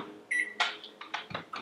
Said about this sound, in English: So can you hear the water boiling now?